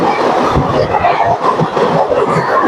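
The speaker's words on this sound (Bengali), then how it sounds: "এবার আমাদের সাথে দেখা হবে 12331 হিমগিরি এক্সপ্রেসের সাথে" The 12331 Himgiri Express rushes past close by, a loud, dense roar of wheels on rails with a rapid clickety-clack rhythm that stays full and unbroken throughout.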